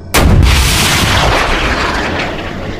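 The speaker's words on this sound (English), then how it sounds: "Let's take an imaginary trip today on a rocket ship to the planet P." A rocket ship launch effect after a countdown, starting with a sudden loud blast and then a sustained roaring rumble that slowly fades.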